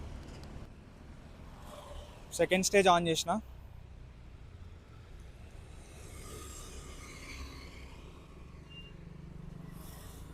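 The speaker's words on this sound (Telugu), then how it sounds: "ట్రాఫిక్ ఎంత క్యాప్చర్ చేస్తుందో మీరు చూడండి." Road traffic heard through a Grenaro P10 wireless mic with second-stage noise cancellation on, a quiet, continuous low rumble of passing vehicles; a brief stretch of speech breaks in early on.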